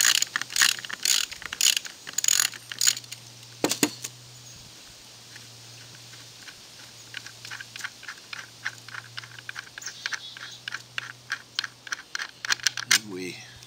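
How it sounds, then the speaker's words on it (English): A ratchet works rapidly on bolts during model-railway module construction. The clicks come in dense bursts, close and fairly crisp, over a steady low hum, with a few brief pauses between runs. "now we take out our bolts"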